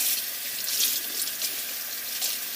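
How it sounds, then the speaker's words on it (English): Tap water runs steadily into a sink while asparagus is rinsed in a colander, a continuous hiss with slight splashing surges as the spears shift under the stream. "Asparagus is kind of tough to clean good. I just rinse it good."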